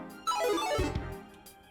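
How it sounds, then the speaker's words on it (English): Sudden electronic beeping from the video game MOON, a bright descending run of tones followed by a couple of short chirps, heard alone and clearly. "Sudden electronic beeping."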